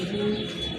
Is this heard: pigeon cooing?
yes